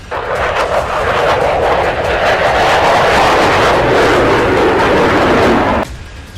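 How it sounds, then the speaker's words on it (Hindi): A fighter jet roars past, a loud, broad rushing thunder that holds steady for several seconds and then drops away abruptly. "ये जहाज अब अमेरिका में भूतिया फाइटर जेट कहा जा रहा है।"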